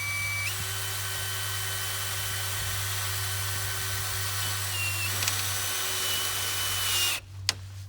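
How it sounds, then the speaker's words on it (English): A drill runs continuously at a steady whine while driving self-tapping hex-head screws into black plastic crates, then stops near the end, leaving a brief quiet gap and a small clunk. "The drill on there will go right through the plastic"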